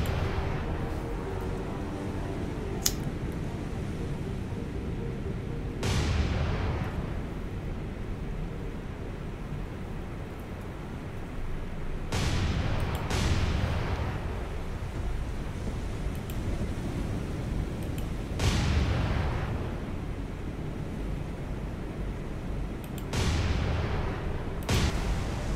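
Naval guns firing star shell rounds in War on the Sea during the Battle of Guadalcanal: a steady rumbling background broken by several heavy booming shots at irregular intervals, some close and loud, others more distant.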